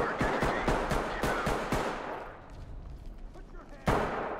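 Rapid shooting during a tactical police raid on a server hub in Ready or Not: a quick burst of sharp, loud cracks, then a quieter stretch of low background noise and one more shot at the end.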